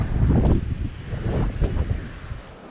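Steady wind roaring and buffeting a microphone outdoors at a muddy autumn bushcraft camp, gusting louder and softer without pause, with no voices.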